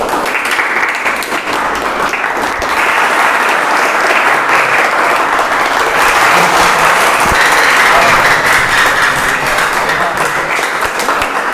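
A school class applauds loudly, a dense, steady roar of many hands clapping that holds at full strength for the whole stretch.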